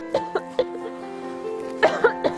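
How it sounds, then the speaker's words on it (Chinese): A woman, a teacher with a chronic cough, coughs repeatedly in short dry bursts, several close together over a low background hum. "差不多有30分钟都已在咳嗽。"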